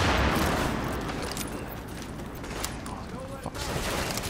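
Grenade blast and sustained gunfire in The Division video game, a dense, loud rolling barrage of shots and booms with bursts throughout, no speech over it.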